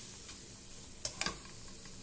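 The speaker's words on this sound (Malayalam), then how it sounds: "നന്നായിട്ടൊന്നും കൂടി ഒന്ന് വഴറ്റിയെടുക്കാം" Chicken masala with a pinch of sugar is sautéed in a pan, giving a faint steady sizzle broken by a few sharp scrapes of a spoon stirring near the middle.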